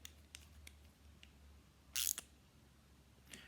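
Cutters snip once during a ratchet service, giving a crisp, bright click over a quiet bench. Faint small ticks and handling noises come before and after it.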